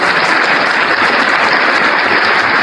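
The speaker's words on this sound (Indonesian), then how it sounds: "Kita kasih aplaus dulu kalau gitu." An audience at a live religious debate claps in a sustained, dense burst of applause, loud and continuous throughout.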